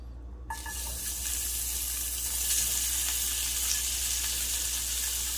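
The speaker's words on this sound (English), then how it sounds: "continue with the next step, which is adding the brisket to the pan. Next we will add our chopped brisket." Chopped brisket dropped into a hot pan to reheat, starting with a brief clatter and then settling into a steady, loud, continuous hiss of sizzling fat, close up and with no voices.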